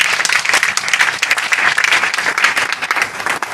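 Congregation at a family deliverance church service applauding Jesus, many hands clapping in a dense, continuous burst of applause, loud and fairly close, with no talking.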